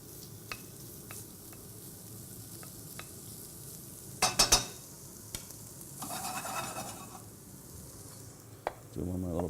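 Something is gently sautéed in butter in a pan: a soft, steady sizzle runs throughout, broken by a few sharp utensil scrapes and stirring clatters.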